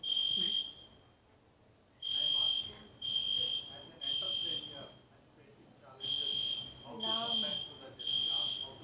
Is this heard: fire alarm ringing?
yes